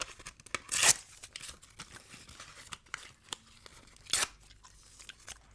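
Post-it notes being ripped up close, with two sharp, bright tearing bursts among softer crinkles and quiet mouth sounds from gum chewing, with no talking.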